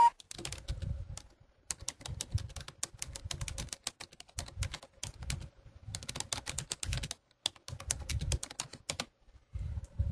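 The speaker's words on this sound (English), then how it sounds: "So I'm going to type in my information" Quick bursts of typing on a computer keyboard, close and crisp, with clustered keystrokes separated by short pauses and no talking.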